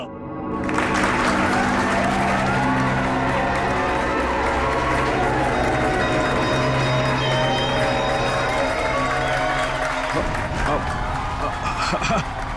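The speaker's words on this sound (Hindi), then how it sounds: "तालियां!" Loud, sustained clapping and crowd noise from an audience at a magic show, continuing steadily for most of the stretch before thinning near the end.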